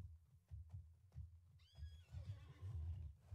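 A horse whinnies in the video game Alicia Online, a rising then wavering neigh over low rhythmic hoofbeats and background game music, moderately loud and with no talk over it.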